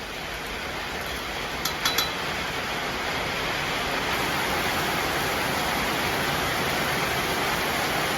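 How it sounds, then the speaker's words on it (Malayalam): Heavy rain falls outdoors in a constant, loud, even roar with no pauses, along with a few faint clinks near the start. There is no talking. "ഒരു രക്ഷയില്ലാത്ത മഴ."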